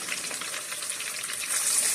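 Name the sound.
garlic ginger paste water poured into frying nihari meat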